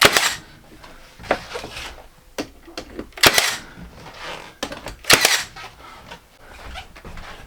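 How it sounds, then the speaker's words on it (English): A Milwaukee M18 cordless brad nailer fires brad nails into trim, several sharp, snappy clacks spaced unevenly with quiet pauses between them, close and loud. "Just use my Milwaukee M18 brad gun, cordless brad gun."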